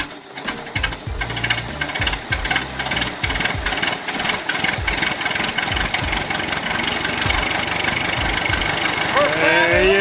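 A Ford Model T engine runs after sitting unstarted for sixty years, giving a loud, steady, uneven chug of low firing pulses that continues throughout.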